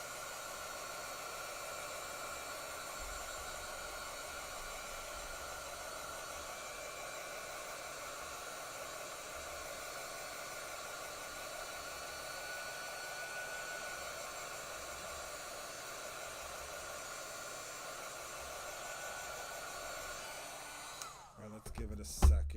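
A heat tool blows hot air onto ink on a Christmas gnome craft, giving a soft, steady, even hiss that runs for about twenty seconds before cutting off with a few faint knocks.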